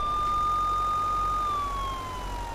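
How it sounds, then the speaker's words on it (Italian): An ambulance siren in the truck-driving game Euro Truck Simulator 2 wails with a steady, loud two-tone pitch that sags slightly lower toward the end, heard alone over a low engine rumble. "Abbiamo pure le sirene"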